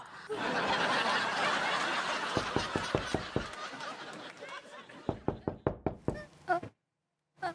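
A run of sharp knocks on a door comes in two bursts, first a quick series of four or five raps under loud background chatter and laughter, then six or seven louder, closer raps, followed by brief silence.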